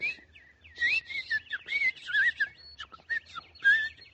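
A bird imitation in a radio drama: a voice-like series of bright chirps and warbling whistles, repeated in quick bursts, fairly close and alone.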